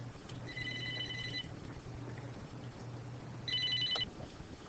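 A classroom telephone rings in two short electronic bursts, one early and one near the end, over a steady low hum and quiet room noise.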